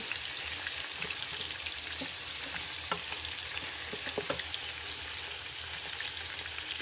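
Meat and onions brown in a pan for a kabsa dish, a constant crackling sizzle like light rain, with scattered clinks and stirs of a utensil.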